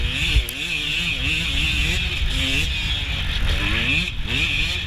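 A 150 dirt bike competes in a hare scramble, its engine loud and close as it revs hard and repeatedly rises and falls in pitch, with a high whine and wind noise throughout.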